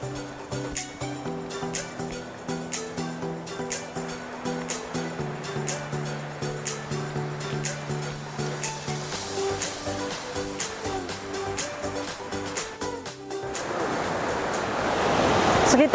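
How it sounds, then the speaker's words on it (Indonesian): Siringoringo waterfall flowing on Paropo, a steady broad rush of falling water heard from the trail, growing louder and closer toward the end, with scattered footsteps and small clatters over it. "aliran air terjunnya sudah terdengar jelas"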